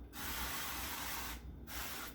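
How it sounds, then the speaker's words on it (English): Avocado oil cooking spray hisses onto a pan in two sustained bursts, close and fairly soft, with a short pause between them. "Just give it a good spray"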